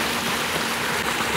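Water flowing out of a field pond through an outlet, a steady close rushing and splashing like a small stream, with no voices.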